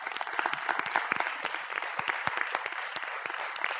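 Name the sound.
audience applause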